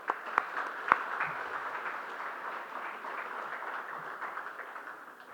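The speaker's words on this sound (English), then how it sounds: "So let's have a round of applause for them." Steady applause from a large crowd at a felicitation ceremony, a dense patter of many hands clapping at a distance, holding evenly for several seconds before tapering slightly.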